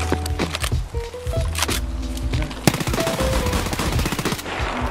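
Gunfire in the Escape from Tarkov video game: a prolonged, loud burst of rapid automatic fire with sharp individual cracks, dense and continuous, close up over faint background game sounds.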